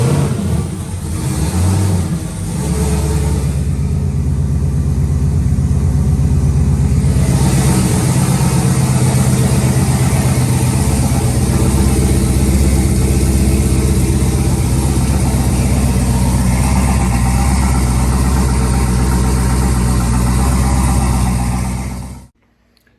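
Race car engine at the Midway shootout with a turbo that struggles to spool, fired up and left running, a loud deep rumbling drone holding steady for about twenty seconds before shutting off abruptly.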